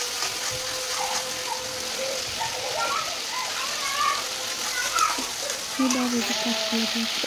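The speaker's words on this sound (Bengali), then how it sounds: "ভেজে নিলাম ভালো করে মশলাটা।" Spice paste fries in a hot pan with a steady crackling sizzle, and occasional utensil clinks and scrapes sound close by.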